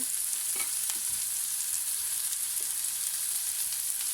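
Prawns frying in a pan for a Sri Lankan curry make a continuous bright sizzle at an even level, with a few faint stirring clicks and no voices.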